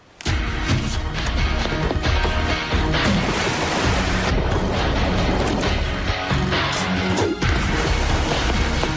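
A cartoon crash as something is hurled into the ocean in an animated fairy series, a sustained, dense smashing roar mixed with surging surf that runs loud and unbroken for several seconds.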